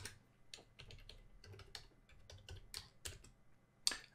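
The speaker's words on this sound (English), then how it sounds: "I'm going to enter the password" Quiet, quick keystrokes on a computer keyboard as a password is entered, a short irregular run of soft clicks close by with one sharper tap at the end.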